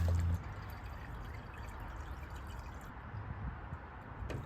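Water is poured into the radiator of a Toyota 100 Series Land Cruiser, a faint, close, steady trickle and gurgle that runs without pause after a short bump at the start.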